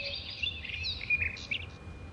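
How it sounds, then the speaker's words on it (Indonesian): Soft bird chirps and tweets flutter over a faint, steady wash of running water, quiet and close. "Saya akan coba gunakan yang ini ya, suara air dan burung."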